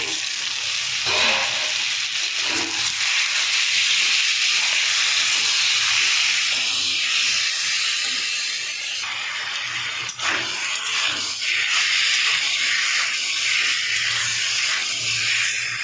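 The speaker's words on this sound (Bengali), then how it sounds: "এবার চিকেনটা দিয়ে দেবো" Chicken pieces dropped onto browned onions and cumin in a hot pan give off a continuous loud sizzle and steamy hiss, broken only by occasional stirring knocks, with no talk.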